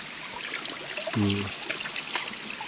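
Spring water trickles steadily from a bamboo spout used for drinking outdoors, a close continuous dribble, with a brief tonal voice-like sound partway through.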